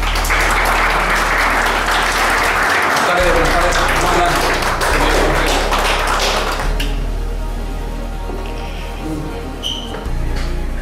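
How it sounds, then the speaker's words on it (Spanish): Loud audience applause fills a hall as a football club's head coach and sporting director are welcomed at a Zacatepec presentation, with dense clapping and some thuds, tapering slightly near the end under a steady low hum. "Por favor, recibamos con un fuerte aplauso a Ricardo Baliño, director técnico del Club Atlético Zacatepec, y director deportivo Patricio Arana."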